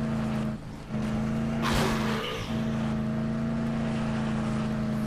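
Car engine in the video game Dead Island Riptide gives a steady droning hum with a brief whoosh and rattle midway, alone and fairly loud.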